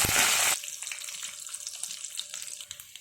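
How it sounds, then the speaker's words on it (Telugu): A burst of loud hissing sizzle at the start settles into quieter crackling and popping as chana dal, urad dal, cumin, dried red chillies, curry leaves and turmeric temper in hot oil. "పోపు ఎగిపోయింది"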